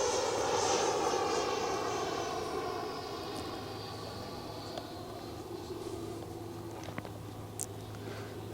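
An FMS Avanti S 90mm electric ducted fan model jet flies past at roughly half throttle, its loud whooshing whine sweeping down in pitch as it passes and fades steadily into the distance.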